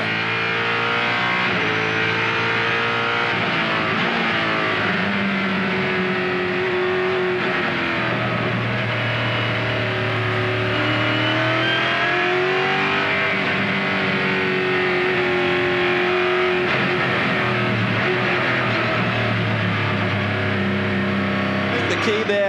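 A Lexus-engined race car at the 2004 Grand Am Porsche 250 revs to about 8,000 rpm and climbs through its six-speed gearbox, its loud engine note rising and dropping at each upshift as it passes, with a commentator talking over it.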